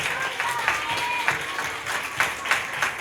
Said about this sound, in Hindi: तो एक बार पिता परमेश्वर के लिए फिर से ताली हो जाए।